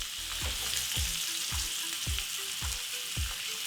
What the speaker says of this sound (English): You want to hear that nice sear.